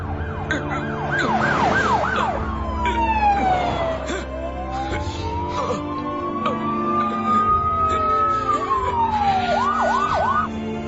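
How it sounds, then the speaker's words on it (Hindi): A police siren wails, sweeping up and down in pitch, rising and falling loudly over traffic noise, with a fast yelping pattern at the start and end. "ये तो पुलिस का सायरन है।"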